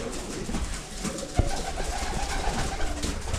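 Pigeons of a breeding flock coo softly in a loft, low murmuring calls repeating over a steady background hum, with one sharp knock partway through and no talking.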